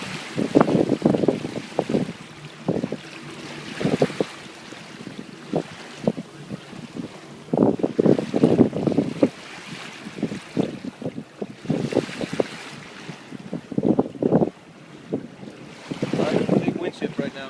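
Gusting wind buffets the microphone aboard a racing sailboat on Lake Michigan between Chicago and Waukegan, coming in irregular loud bursts with water and boat noise beneath.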